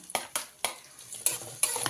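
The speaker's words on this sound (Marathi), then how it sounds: "तेल गरम झालेलं आहे, तर त्याच्यामध्ये आपण कांदा चांगला भाजून घेऊया।" Onion frying in hot oil in a pan, short bursts of sizzle and a few sharp scrapes and clinks of a spoon stirring, close and fairly quiet.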